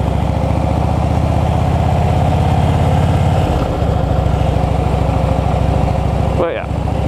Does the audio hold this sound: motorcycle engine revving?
yes